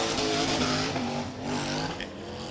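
A rear-engine hydroplane racing boat charges off the start of a race, its engine roaring loud and steady with a slight dip midway, no talk over it.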